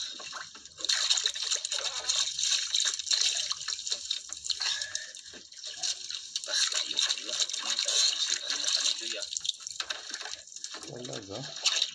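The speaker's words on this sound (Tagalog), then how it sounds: "Bakit binubomba yung tubig?" Water splashes and trickles steadily while fishing outdoors, likely being pumped, with broadband gushing texture throughout and a voice talking over it.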